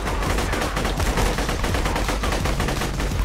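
Rapid pistol fire in the video game Borderlands, a dense, continuous barrage of loud gunshots with battle noise packed tightly together and no pauses across the whole stretch.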